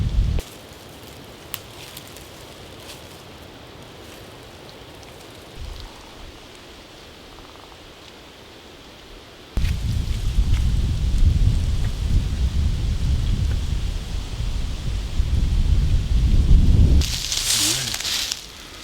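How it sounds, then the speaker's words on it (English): Quiet outdoor rustling in Alberta bush suddenly gives way to loud, blustery wind roaring against a microphone, gusting harder near the end. "It's just got really windy"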